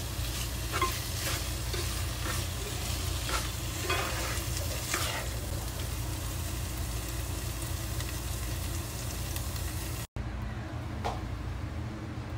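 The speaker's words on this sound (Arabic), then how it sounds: "واخيرا راح نضيف الصنوبر المحمص ونقلب" Meat filling with toasted pine nuts stirred in a pan, a steady scraping stir over a continuous sizzle with a low hum underneath, loud and close, then a brief gap and a quieter stretch of sizzling.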